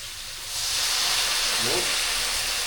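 Water hits a hot pan of burnt beef noodles, bursting into a loud, close hiss of steam and sizzle that swells after a brief pause and holds steady.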